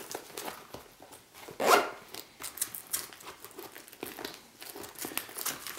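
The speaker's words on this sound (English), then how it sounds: "zip it back up." A zipper on a Sidi ST Air motorcycle boot is drawn up in a few quick close rasps, mixed with crinkling and rustling of the boot material.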